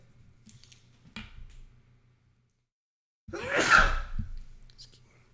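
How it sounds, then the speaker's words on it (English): A single loud, close human sneeze bursts out after a couple of quiet breaths and a short silence, followed by a brief fading exhale. "I got to sneeze"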